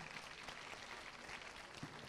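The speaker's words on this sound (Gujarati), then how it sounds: "તાળીઓથી વધાવી લઈએ." An audience at a school annual prize function claps steadily for a student award; the applause is a dense, even patter throughout, distant and fairly faint.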